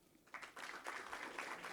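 Ceremony audience applauding, a soft patter of clapping that swells after a quiet start and holds steady from a distant crowd, with no talking over it.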